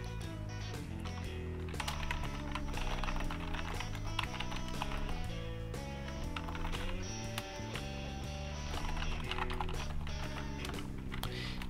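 Someone types a message on a computer keyboard, a run of quick, light key clicks that continues throughout under steady background music.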